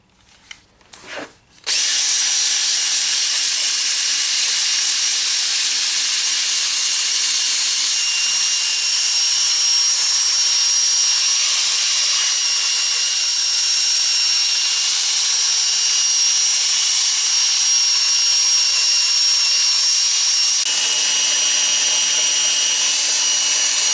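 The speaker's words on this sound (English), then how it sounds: "I'm going to do this all mostly by hand, I mean with the drill, but without the lathe being on" Power drill sanding and shaping a spalted maple bowl on a stopped lathe, starting after a few knocks with a loud, steady high whine and grinding rub that hold for about twenty seconds.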